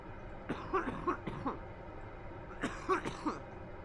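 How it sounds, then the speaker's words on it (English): A man coughs muffled into his jacket, two clustered bursts of several harsh, throaty coughs with a short pause between them, close but dampened by the fabric. "Trying to cough into my jacket so that it's not completely overwhelming the microphone"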